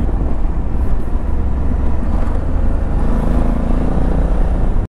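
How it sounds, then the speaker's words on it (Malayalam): A Kawasaki Z900 motorcycle engine roars loud and close as the rider downshifts manually and blips the throttle, a dense continuous growl that cuts off at the end. "ഇത് നമ്മുടെ മാനുവലായിട്ട് ഗിയർ ഡൗൺ ചെയ്യുന്ന കേട്ടോ. ഇതാണോ സൗണ്ട് കേട്ടോ, ആ ത്രോട്ട് കൊടുക്കുമ്പോൾ"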